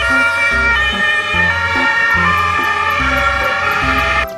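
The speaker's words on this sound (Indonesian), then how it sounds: "Wadidaw, ini mobil ambulan teman-teman." A loud electronic siren melody from a toy ambulance, wailing continuously in repeating tones over a pulsing low electronic beat, close and unbroken.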